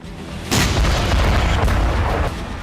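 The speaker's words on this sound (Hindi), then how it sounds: "सिर्फ विस्फोट।" A loud explosion effect in a news report on missile strikes, a sudden heavy boom that rolls on as a sustained rumble for about two seconds, with no talking.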